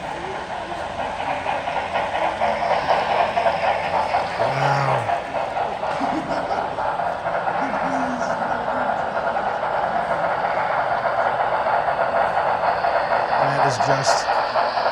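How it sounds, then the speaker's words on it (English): A double-headed model coal train with B&O and Pennsylvania hoppers runs along a layout at a busy scale train show, a steady rolling rumble with faint clicks beneath crowd chatter and nearby voices. "All right, it's a double head coal train."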